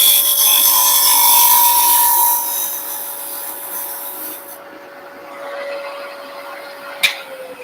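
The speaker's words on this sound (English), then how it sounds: "I'm going to do a little negative rake scraping here." A skew does negative rake scraping on a wood lathe while turning a birdhouse. The spinning lathe gives a steady high whine with a thin, rasping scrape, close and continuous, which fades and softens partway through and ends with a brief click.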